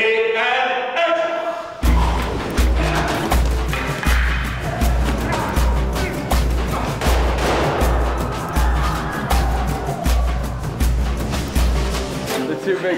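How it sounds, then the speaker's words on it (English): Gunfire during a take of a film fight sequence, a rapid string of loud close bangs with thuds and scuffling mixed in, coming after a brief bit of talk at the start. "We're the only ones who knew the gun was going off."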